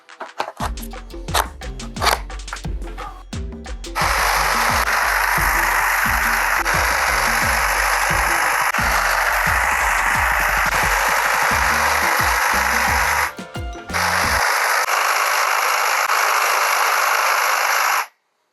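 A TTG 8A610 cordless hedge trimmer is fitted with its battery amid a string of clicks and clunks, then runs with a loud, steady, close buzzing whine that cuts out briefly, restarts and finally stops.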